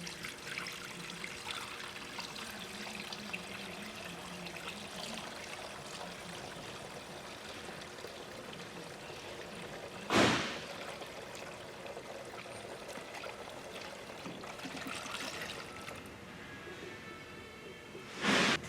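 A premixed 50-50 gold coolant and tap water blend trickles and pours into a bottle for a 2004 Ford F-350 6.0L, a faint, steady liquid stream with two brief louder clunks near the middle and end.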